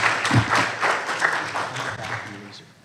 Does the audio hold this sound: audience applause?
yes